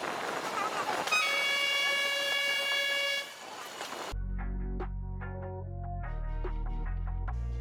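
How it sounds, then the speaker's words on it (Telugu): Ooty toy train horn tooting loudly with a sustained blast among forest tunnels, followed by rumbling wheels and clattering carriages, with people talking faintly over the rail noise. "ఇది చుట్టూ సొరంగంలా ఉంటూ చుట్టూ అడవుల మధ్యలో నుండి కోనల్లో మధ్యలో నుండి ఈ ట్రైన్ అనేది అయితే బయలుదేరింది."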